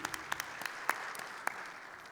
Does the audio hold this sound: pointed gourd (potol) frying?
no